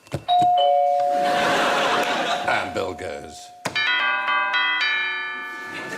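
Doorbell chimes rung as contestants' buzzers on a TV quiz panel show, loud ringing two-tone ding-dong tones sustaining and ringing out, with someone speaking between them.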